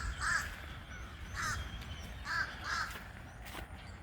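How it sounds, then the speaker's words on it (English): Several crows caw in short harsh bursts, about four calls spaced over a few seconds, moderately close, heard outdoors beside a small cemetery on a town street in Bath, North Carolina, over steady low background noise. "Are those crows?"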